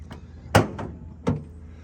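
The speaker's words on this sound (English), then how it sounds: "Let's pop the hood here." A 1967 Ford Mustang Fastback GT hood is popped open, with a few short, sharp metallic latch clunks and thuds, close by and otherwise quiet.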